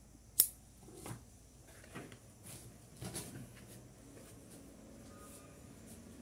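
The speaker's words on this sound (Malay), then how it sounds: "Yang tumbuh-tumbuh dekat batang seperti ini kita potong ya." Hand shears cutting overgrown bougainvillea branches growing close to the stem, one sharp close snip followed by a few softer clicks and rustles of foliage in a quiet garden.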